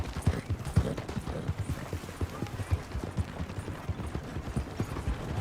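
A horse gallops in Red Dead Redemption 2, its hooves beating a fast, even clip-clop rhythm, close and steady throughout with no speech.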